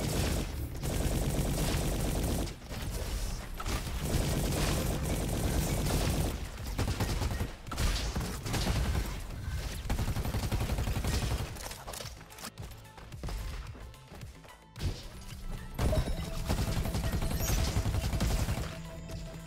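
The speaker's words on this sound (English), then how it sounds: "Ooh, the splasher rifle is nice." Rapid, continuous gunfire from the splasher rifle in the shooter game Roboquest, played as the Commando class, rattles dense and unbroken for most of the clip with brief gaps between volleys.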